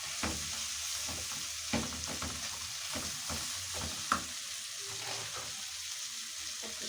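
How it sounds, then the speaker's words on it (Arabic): Rice being stir-fried with chicken gizzards in a pan, a steady sizzle broken by repeated scraping and clacking strokes of a spoon against the pan, close by with no voices. "نشوح الرز في القوانص كده"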